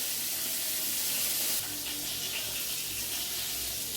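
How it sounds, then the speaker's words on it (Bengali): Tap water runs as a cooking pot is rinsed out in a home kitchen, a steady close splashing hiss that changes tone partway through, with no talk. "কড়াইটা এমনি জল দিয়ে ধুয়ে রেখে দেবো।"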